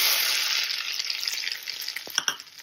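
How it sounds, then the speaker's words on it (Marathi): Hot tempering with curry leaves hits a bowl of South Indian coconut chutney and sizzles hard at first, then fades into softer frying crackle with a few sharp pops near the end. "मी एका दुसऱ्या भांड्यामध्ये काढून घेतली आहे, त्याच्यामध्ये हा तडका टाकून घ्यायचा।"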